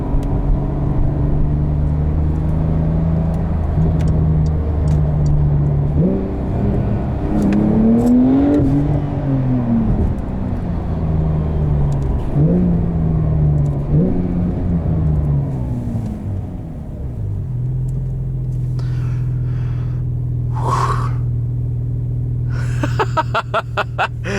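A 2021 Porsche 911 Turbo S (992) engine revs and accelerates hard, pitch climbing and dropping through gear changes, with a steady low rumble throughout and no talking.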